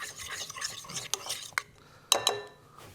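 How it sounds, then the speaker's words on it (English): A utensil stirs mayo with sour cream and lime juice into a thinner sauce, giving soft scraping swirls broken by a few sharp clinks against the bowl. "I want to get my mayo to mix with my sour cream and that lime juice to make it a little bit more liquidy"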